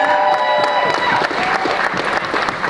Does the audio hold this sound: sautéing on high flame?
no